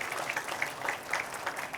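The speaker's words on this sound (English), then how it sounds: "Can we have a big round of applause from them too?" Conference audience applauding in a hall, a steady patter of clapping hands lasting under two seconds with no voices over it.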